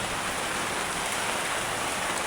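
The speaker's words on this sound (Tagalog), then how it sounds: "Lumakas na yung ulan" Heavy rain pours down steadily, a dense and even hiss of drops on surfaces close by during a windy storm, loud throughout with no voices.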